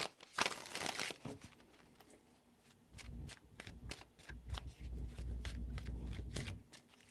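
Tarot cards shuffled by hand in several bursts of riffling and flicking, close and fairly quiet, with pauses between handfuls and some low handling thumps.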